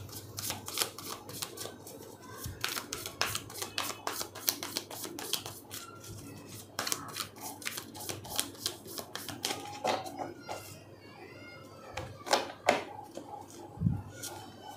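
Tarot cards being shuffled by hand: a steady run of quick, crisp riffling clicks and soft papery slaps, close and fairly quiet, with no talking.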